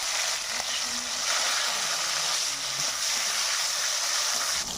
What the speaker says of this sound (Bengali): এখানে একটা বেশ বড় সাইজের টমেটো আমি কুচে নিয়েছি দিয়ে দেব একটু নাড়িয়ে নেব